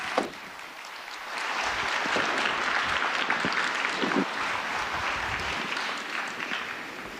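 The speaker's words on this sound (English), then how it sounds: "Let's give them a round of applause." Sustained applause from a crowded audience at a Foxconn tech day event, steady and dense for about seven seconds with no voices over it.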